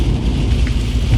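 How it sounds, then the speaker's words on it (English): Torrential rain hammers a car windshield, a loud, dense, continuous roar of drops heard from inside the vehicle, with no talking. "over the torrential rain that's smacking onto the windshield"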